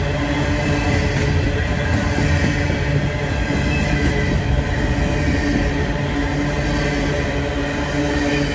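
A freight train led by a GP40 locomotive rolls past at night in a continuous loud rumble of wheels and cars, with a faint squeal over the steady clatter.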